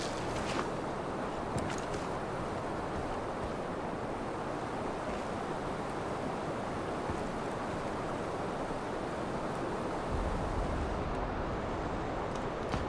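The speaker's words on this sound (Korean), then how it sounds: "엄청난 폭포입니다." Steady, dense roar of a huge two-tiered waterfall in the stone-age video game Far Cry Primal, a constant broadband rush that fills the whole clip at an even level, with no voices.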